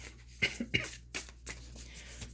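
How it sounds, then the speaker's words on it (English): Several sharp coughs in quick succession, close and fairly loud, with short quiet gaps between bursts and a faint hum underneath. "Do you guys have this cough as well?"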